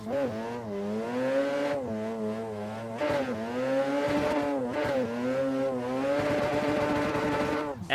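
A rotary-engine BMW in a racing sim, the Assetto Corsa car pack, held in third gear near redline: a smooth buzzing engine note rising and dipping through repeated revs and lifts, close and steady, with faint talk underneath.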